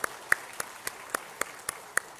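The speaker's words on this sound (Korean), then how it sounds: "하나님께 영광의 박수 올려드리겠습니다." A single person claps slowly and evenly, eight sharp, fairly faint claps during a Christmas church service, with a quiet room behind them.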